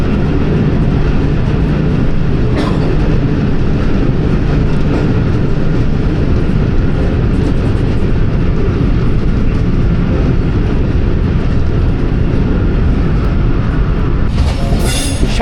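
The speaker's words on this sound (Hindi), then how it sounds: "महमूद कोट चक पिराना ऑयल कंटेनर ट्रेन है ये" A long oil container freight train on the Mehmood Kot–Chak Pirana line rumbles steadily past close by, with continuous wheel clatter and occasional metallic squeals from kerosene oil coaches, loud and unbroken throughout with no talk.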